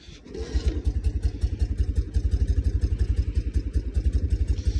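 A motorcycle engine catches with a brief rough clatter, then settles into a steady, fast, thumping idle that stays loud and close throughout, with no talk over it.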